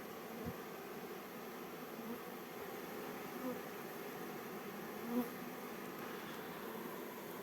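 A swarm of honey bees hums in a steady, dense drone around a hive in mid-July, a continuous buzz that holds even throughout with a few faint knocks and no voices.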